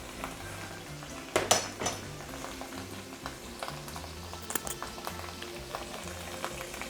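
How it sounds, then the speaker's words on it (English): Pasta con sarde sauce with chopped fennel bubbling in a pot on the stove, a steady low simmer under clinks and scrapes of a spoon against the pan. "The condiment is now boiling"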